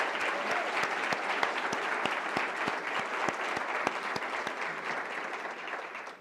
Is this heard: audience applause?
yes